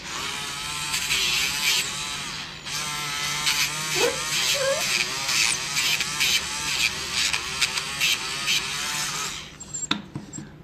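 A handheld electric nail grinder buzzes steadily against a dog's nail, a continuous high whine with slight pitch wobbles as it presses and lifts, running almost unbroken for about ten seconds before cutting off near the end.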